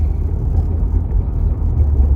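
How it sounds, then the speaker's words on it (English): A car pulling up nearby, a low rolling engine rumble and tire whir that stays steady and fairly loud for a couple of seconds, with no voices. "car just pulled up for me."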